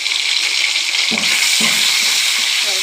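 Duck eggs frying with salt and turmeric, a loud, close, constant hiss of hot oil with two short stirring scrapes partway through.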